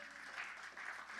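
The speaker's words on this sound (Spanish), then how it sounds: "Un aplauso a mi Señor." Brief burst of congregation applause during a Spanish-language church service, a soft, even wash of clapping that lasts only a moment.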